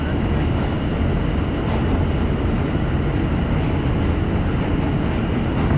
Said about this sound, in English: Yeah, I'm not sure why the train's going slow